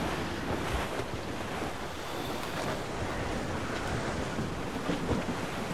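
Wind and waves on the open sea in the video game Assassin's Creed Rogue, a steady rushing of surf and gusting wind around a sailing ship, continuous and fairly soft with no voices.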